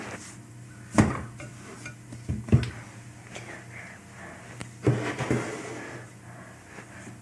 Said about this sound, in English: And put it into my loaf pan.